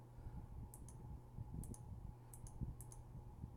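Faint paired computer mouse clicks sound in short double taps spread across the clip, quiet and close over a low background hum.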